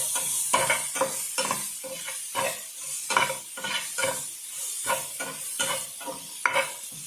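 Ingredients for gongura egg curry fry in a pan, with a spoon scraping and stirring in quick, regular strokes over a continuous sizzle, close and clear, with no voices.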